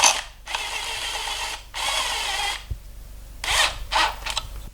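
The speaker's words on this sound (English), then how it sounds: "So we're gonna torque these." A ratchet wrench tightens bolts on the interior of a 1965 Chevy Nova being stripped out, giving several bursts of rapid clicking separated by short pauses, close and clear with no talk.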